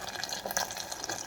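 A little water splashes and trickles into rice paste for Marathi rice kheer, a short, close, moderately quiet pour.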